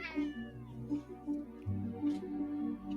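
A cat meows repeatedly in a video game trailer, drawn-out plaintive cries in a loose rhythm over a sustained musical drone, close and clear.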